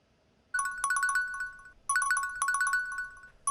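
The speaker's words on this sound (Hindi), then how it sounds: "वरुण का फोन।" A phone ringtone chimes in two repeating bursts of bright electronic tones, with a third burst starting at the end, over a quiet room in a Hindi TV serial scene.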